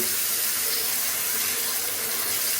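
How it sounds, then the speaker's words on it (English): Lukewarm water gushes from a tap into a washing basin being refilled for soaking a dress, a loud, steady hissing pour that runs without a break. "we're going to fill this back up with fresh water and let these things soak"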